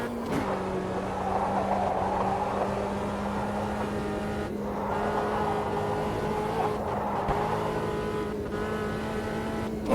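A front-wheel-drive race car engine in Automobilista 2 holds a steady, buzzing drone at high revs, dipping briefly a few times as the throttle lifts and comes back on, with no talk over it.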